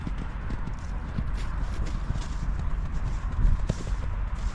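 A small horse or pony trots around a livestock-raising farm kept with goats, rapid hoof clip-clops running steadily under a noisy, rumbling outdoor background.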